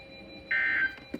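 A NOAA Weather Radio warning alarm tone sounds as a single steady, loud sustained beep lasting about a third of a second, followed by a brief faint click.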